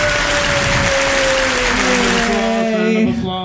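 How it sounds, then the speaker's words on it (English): A loud, dense burst of applause plays during a livestream, continuous for about three seconds with a sustained tonal sound riding over it, then cuts off abruptly. "Round of applause."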